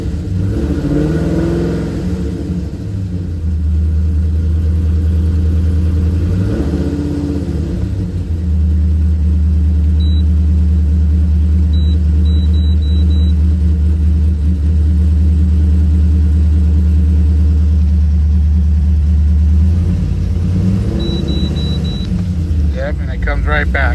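A 2013 Chevy Caprice engine runs with a misfiring cylinder, giving a loud, uneven low rumble that swells as it revs and settles back to a rough idle, with a few faint electronic beeps over it.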